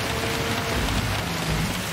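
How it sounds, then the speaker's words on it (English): Torrential rain pours down steadily in the Gran Turismo 7 racing game, a loud, dense, continuous hiss of heavy drops with a low rumble underneath and no pauses. "So how on earth is it going to be in this torrential rain?"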